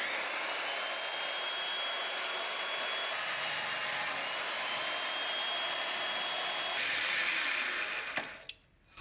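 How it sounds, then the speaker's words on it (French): Old Peugeot 220 V column drill press boring into square steel tube, a steady close motor whir with a high drilling hiss, ending with the motor switched off and spinning down. "On va faire un petit essai avec ce tube carré, voir si ça perce bien"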